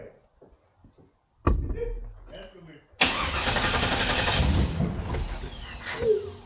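A car engine cranks and catches after soft sounds and talk, then roars loudly and steadily up close, rough and sputtering as it runs; the speech before it is part of the scene.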